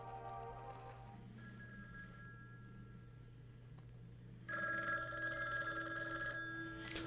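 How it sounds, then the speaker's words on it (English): A telephone bell in a 1972 horror film rings out partway through, a bright, steady electric trill that swells sharply above a low constant hum and continues to the end. "Otas, how about that telephone up at the Butler house? Is it working? Well, try it now"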